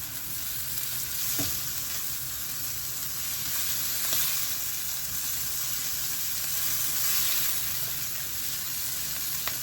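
Big lobster pieces sizzling in a pan make a steady loud frying hiss that swells and eases slightly, with a few faint ticks and scrapes from stirring.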